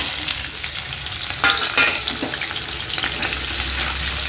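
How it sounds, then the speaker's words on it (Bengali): Green beans frying in hot white cooking oil in a wok, a steady close sizzle with brief louder crackles and stirring bursts throughout. "প্রথমে বিনসগুলো ভেজে নেব"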